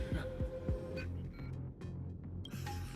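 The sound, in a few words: heartbeat sound effect in Honkai Star Rail video game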